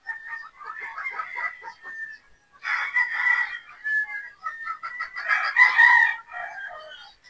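Boston Roundhead pullets at a game farm, clucking and crowing in overlapping bursts, loud and close throughout.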